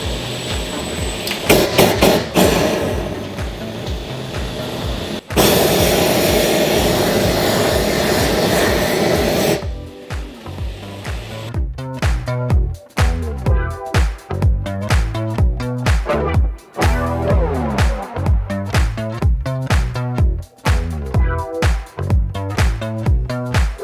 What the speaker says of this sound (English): So I got the propane torch set up over here.